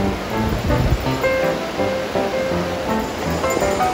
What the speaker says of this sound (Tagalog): maraming mga bato at ang ganda ng agos ng tubig